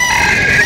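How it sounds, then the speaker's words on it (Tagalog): Cochin chicken, a short, strained high call lasting under a second, loud and close and heard alone. "Napakagandang manok naman yan, Boss Bing."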